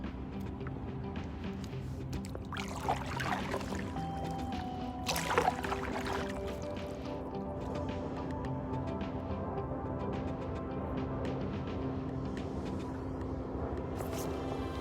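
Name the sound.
paddling a small boat on the Salish Sea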